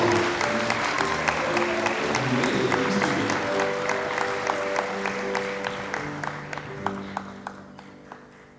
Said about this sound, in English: let's give one more round of applause for our Robert B. Moore Student Leader Award recipients